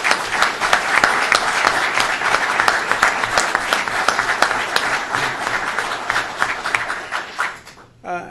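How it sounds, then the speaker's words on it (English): Sustained applause from an audience at a governor's flood recovery event in New Hartford, with dense, steady clapping that stays loud for several seconds before tapering off abruptly. "why don't we give them a round of applause?"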